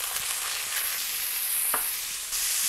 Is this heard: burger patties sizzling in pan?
yes